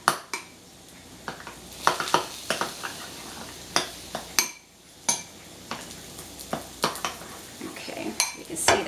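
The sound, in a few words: mixing egg foo young with green onions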